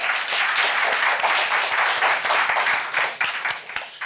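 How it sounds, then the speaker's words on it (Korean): A church congregation bursts into steady, sustained applause, dense overlapping claps filling the room for about four seconds before easing slightly at the end. "우리 하나님께 영광의 박수 올려드리겠습니다"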